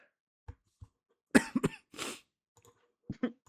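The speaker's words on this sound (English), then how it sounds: "I just have a cough." Several short coughs, close and fairly loud, come in a cluster mid-clip with a couple of fainter ones around them in otherwise quiet surroundings.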